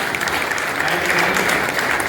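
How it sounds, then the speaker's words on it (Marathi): An audience claps at an award ceremony in Alandi honouring people from various fields, dense and steady applause that fills the whole moment at close range. "टाळ्यांचा आवाज"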